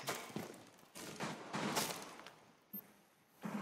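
Gunfire from the enemy operator IQ in Rainbow Six Siege: a few bursts of rapid shots in quick succession, moderately close, with short gaps and a lone later shot, no talk over them.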